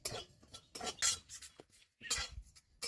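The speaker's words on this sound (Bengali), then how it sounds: "এবার এই মশলাগুলোকে সব একসাথে ভেজে নেব" Whole spices for an aloo chop masala dry-fried together in a pan, heard as rapid bursts of rattling and scraping clatter with short pauses between, fairly close, with no talking.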